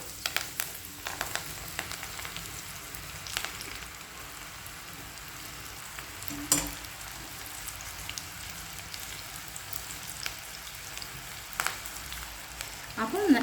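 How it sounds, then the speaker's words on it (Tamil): Pakoda batter deep-fries in hot oil with a faint, steady crackling sizzle, broken by a few soft clinks of a utensil. "பக்கோடா நீங்கள் ஃப்ரை பண்ணி எடுக்கும்போது இந்த மாதிரி எடுங்க."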